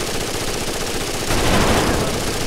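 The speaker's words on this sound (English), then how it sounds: "He shot me through the wall." Gunfire in the Rainbow Six: Las Vegas 2 Terrorist Hunt mode on the Streets map, a dense, continuous noisy rattle that swells louder midway through and holds steady.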